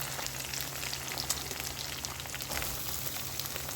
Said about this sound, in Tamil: அதுக்கப்புறம் பச்சை மிளகாய் சேர்த்து அதையும் ஒரு 2 நிமிஷம் வதக்கிட்டு அப்புறம் வெங்காயம் சேர்த்துக்கலாம்.